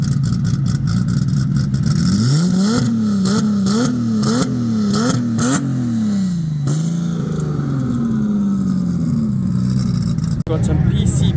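Ford Raptor drag car racing at Tarlton International Raceway, a loud engine revving up through several rapid gear changes then fading as it pulls away, with people talking nearby.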